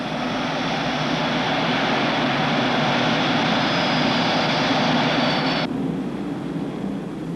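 Boeing B-47 Stratojet jet engines roar steadily as they come up on power for takeoff, a loud, broad, continuous rush that stays constant, then its upper hiss drops away near the end.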